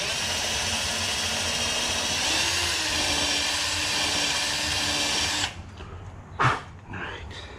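A power drill countersinks holes on a flats skiff boat build, whining steadily and loudly for several seconds, then cuts off, followed by a short sharp burst and quieter handling noise.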